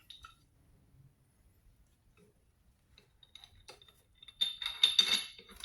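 Metal clinks and taps as a pipe wrench is picked up and handled, faint at first, then a louder cluster of clattering metal contacts near the end.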